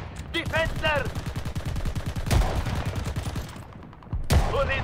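Video-game gunfire in Call of Duty: Vanguard during a hotel-lobby firefight, with loud sharp shots bursting in around the middle and near the end over a continuous mix of battle noise and talk.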